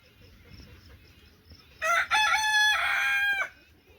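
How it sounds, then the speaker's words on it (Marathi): A rooster crows in the morning, one loud, close cock-a-doodle-doo lasting under two seconds, following a quiet stretch of faint background rustle. "आमच्या कोंबड्याने ना बाग देऊन आहे ना सकाळ सकाळ शुभ सकाळ पण केलेली आहे"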